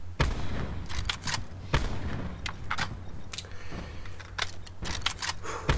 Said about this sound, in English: Very tense moments here with the sniper shots.